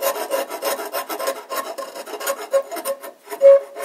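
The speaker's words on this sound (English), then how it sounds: "So what we can do is use a scraper." A hand scraper strokes old shellac off an antique wooden sewing machine cabinet, working with the grain in quick rhythmic rasping scrapes, close and fairly loud, about a dozen strokes.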